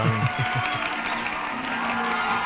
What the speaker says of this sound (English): Oh, the crowd is back.